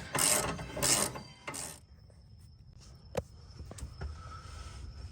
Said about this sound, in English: we torqued down the bolts for the oil pan